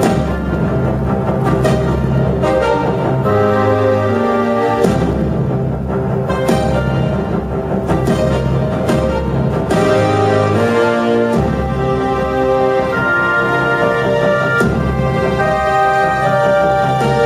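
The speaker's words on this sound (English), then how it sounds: "So what you're hearing there is a massive 16-part copy." A Korg Kronos synthesizer plays a full 16-part orchestral arrangement: loud, dense, sustained harmonic layers with shifting chords and accents, continuous throughout and with no talk.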